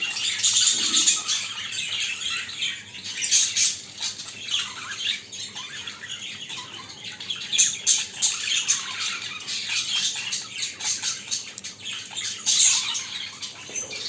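Caged show birds chirp and squawk while paired for courtship, a busy stream of bright calls in bursts, near and moderately loud, with no talking.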